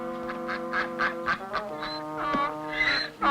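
Wild honkers call in a rapid string of nasal honks, several birds close by and loud, overlapping with uneven rhythm and no talk.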